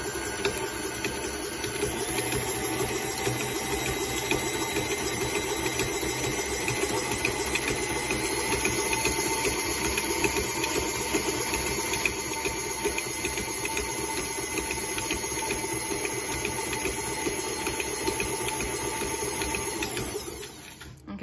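A KitchenAid stand mixer runs steadily, mixing homemade mayo with the wrong blade fitted, making a loud continuous motor whir with rattling and hiss that ends abruptly near the close.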